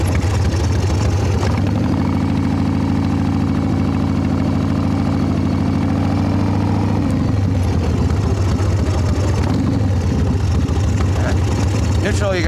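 A Harley Evo Softail motorcycle engine runs steadily and loudly up close with a deep, continuous rumble that shifts partway through, and a person talks over it.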